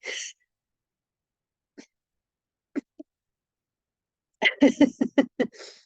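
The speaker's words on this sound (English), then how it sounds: "I thought it was a sneeze coming on." A short breathy burst at the start, then a few faint catches and a quick stuttering run of sharp, choppy exhalations like a sneeze being held back.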